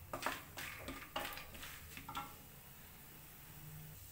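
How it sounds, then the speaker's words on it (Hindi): Peanuts fry in oil in a pan over a medium gas flame, giving a steady soft sizzle with a few scraping stir strokes early on, then a quieter continuous crackle. "अभी हमारी मूंगफली भी भुन गई है"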